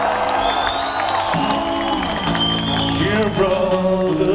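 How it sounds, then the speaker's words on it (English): Crowd at a concert cheering, whooping and applauding, a loud continuous roar of many voices with tonal shouts rising over it. "Give yourself a round of applause"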